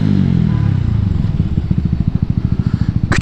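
Motorcycle engine idling with a steady low pulsing exhaust throb, close and loud, with a small pop near the end as the exhaust crackles.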